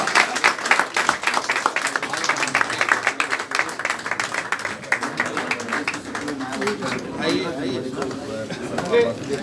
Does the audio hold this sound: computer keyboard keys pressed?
no